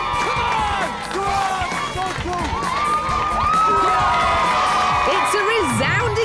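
A crowd cheers, whoops and shouts at a high-speed row bike race semi-final, loud and sustained, with a commentator's voice over the noise.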